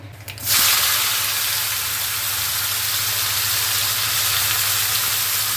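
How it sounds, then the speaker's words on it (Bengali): Nigella seeds dropped into hot oil for tempering, bursting into a loud, steady, close sizzle that holds evenly after a brief quieter start, with no talking. "তেল দিচ্ছি কালো জিরে ফোড়ন দিচ্ছি"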